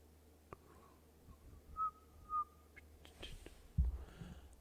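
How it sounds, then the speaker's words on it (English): A few faint, short whistled notes, thin and breathy, in a quiet room with soft handling noises toward the end. "I'm whistling."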